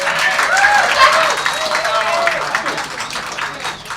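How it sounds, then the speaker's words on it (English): A stand-up comedy audience applauds and cheers steadily for a comedian being introduced on stage. The clapping stays dense and sustained for several seconds, with crowd voices mixed in. "Give a round of applause for Dan Magoo."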